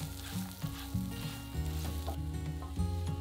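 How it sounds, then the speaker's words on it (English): Sliced leeks fry in olive oil in a pan, giving a steady, close sizzle with occasional stirring scrapes and clicks throughout. "Add the sliced leek and season with a pinch of salt and pepper, then fry for 5 minutes,"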